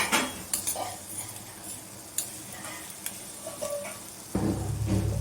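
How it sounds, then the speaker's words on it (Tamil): A spoon stirs red chili powder through amla gooseberry pickle in a pan, giving scattered scrapes and light clinks over a soft sizzle, with frying growing louder near the end; no one speaks. "நம்ம மிளகாத்தூள் போட்டதுக்கப்புறம் வந்து நல்லா கிண்டி விடணும்"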